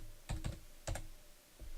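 Computer keyboard typing in a few brief bursts of keystrokes, with pauses between them, quiet and close, no one talking over it.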